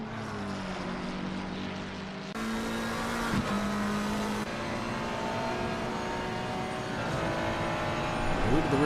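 Race cars, including an AMG, circulate the Nordschleife in a continuous, steady engine drone while a commentator talks over it.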